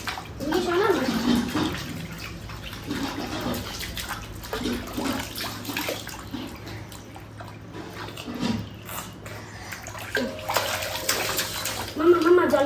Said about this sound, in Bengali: জল এরকম বাড়ি দিতে হয় না মা